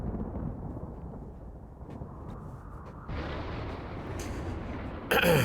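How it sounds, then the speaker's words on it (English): Loud thunder rumbles in the RimWorld video game, a deep, rolling boom that swells at the midpoint and cracks sharply again at the end, with no voices. "Loud thunder."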